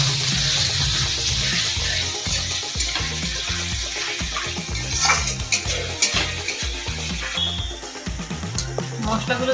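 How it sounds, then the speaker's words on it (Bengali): Masala with turmeric and salt sautéed in a pan for bhetki fish jhal: a spoon scrapes and stirs in repeated strokes over a continuous sizzle, with clinks of metal against the pan. "হলুদ গুঁড়ো, স্বাদ মতো নুন, দিয়ে আবার সবগুলোকে খুব ভালো করে কষিয়ে নেব।"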